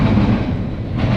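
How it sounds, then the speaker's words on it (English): A CSX eastbound intermodal freight train rolling past, with a steady, loud rumble and clatter of wheels on rails, close by and continuous. "This train, CSX IOOA, will be passing through"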